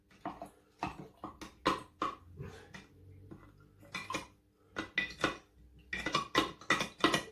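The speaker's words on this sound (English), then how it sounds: "Give that a good old mix about." A spoon stirs a ginger beer mixture with water in a pot, giving a series of close, clinking scrapes and knocks against the pot in irregular rhythm, moderately quiet with no talking.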